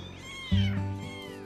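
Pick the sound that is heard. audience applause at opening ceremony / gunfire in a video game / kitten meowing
kitten meowing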